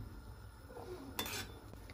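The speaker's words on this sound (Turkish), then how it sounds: "Şöyle köpüklerini alayım." A utensil clinks against a metal pot while foam is skimmed off boiling dry beans, a brief metallic scrape and tap over the low bubbling of the pot.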